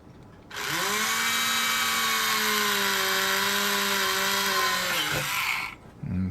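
A small power drill whines steadily for about five seconds as it bores a pilot hole into a model ship hull, a loud continuous high-pitched tone that dips slightly near the end before cutting off.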